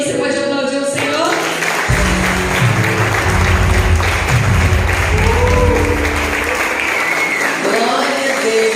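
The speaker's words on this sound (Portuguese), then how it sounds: "Você pode aplaudir o Senhor?" A church congregation applauds the Lord, sustained crowd clapping with a low musical hum and some voices underneath, steady and fairly loud throughout.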